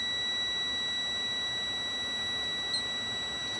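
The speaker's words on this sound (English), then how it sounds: "that lower light and buzzer is going to go off between 55 and 60" A truck cab's low air pressure warning buzzer sounds as a steady, continuous electronic tone that holds unchanged through the whole stretch, close and fairly loud, with no talking.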